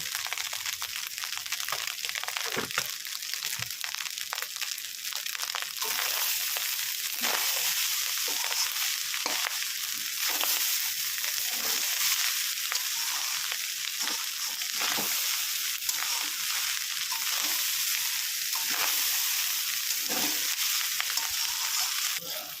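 Rice frying in a pan, a loud, dense, continuous sizzle with repeated stirring scrapes throughout.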